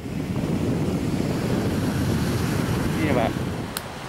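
Broad, steady roar of ocean surf and gusting wind buffeting the microphone at Ancol beach, filling the whole clip loudly, with a brief exchange of voices near the end.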